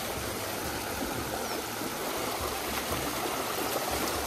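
Steady rushing flow of the Choral river while it is waded across on foot, a continuous broadband wash of water close by, even in loudness throughout with no talk.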